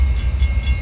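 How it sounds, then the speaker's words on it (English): Reading Susquehanna & Western freight train 497 rolling past on shared trackage, a steady low rumble of wheels on rail with faint high squeal, close and continuous with no talk. "this train is bound for Cincinnati, Ohio, as it is heading down its shared trackage"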